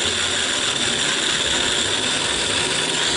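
An electric mixer whips well-chilled mastic-flavoured cream for kataifi ekmek with a loud, steady, grinding mechanical whir that stays constant throughout, with no talk.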